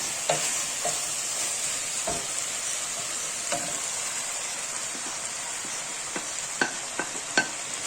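Peppers sizzle steadily in butter in a frying pan, a continuous close hiss with occasional sharp pops and crackles, and no voices.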